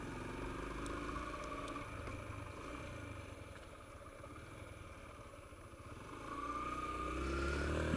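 A motorcycle taxi's engine hums steadily at moderate volume while riding on a road, dipping slightly, then revving up as the rider accelerates.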